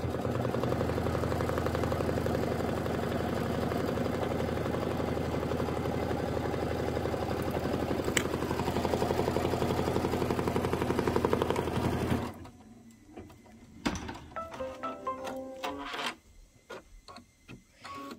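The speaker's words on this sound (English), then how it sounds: "it's just going to stitch down here along the bottom part" An embroidery machine runs steadily as it stitches along the bottom of a hooped project for a reusable Kimberbell item, giving a continuous mechanical whir that stops abruptly near the end, followed by a few scattered clicks and handling sounds.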